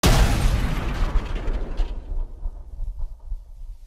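A loud game explosion effect for a missile collision in Unreal Engine 5 opens with a heavy, booming burst. It then rumbles and crackles as it fades over a few seconds.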